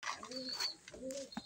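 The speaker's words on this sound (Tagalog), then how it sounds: "papalapit na yung mga ibon natin mga boss" Racing pigeons coo nearby, with two soft throaty phrases and a bit of light fluttering around them.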